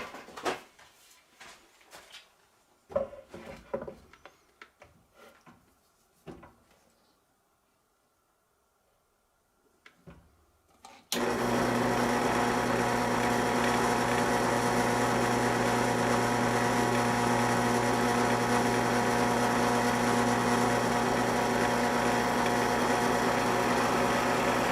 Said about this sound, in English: we're just going to take this over to the drill press real quick and drill out the 4 holes